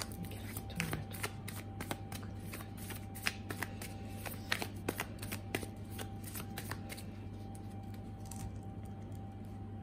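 Tarot cards being shuffled, a steady run of crisp riffling snaps and taps at close range, repeating through the whole stretch over a constant low hum, with no talking.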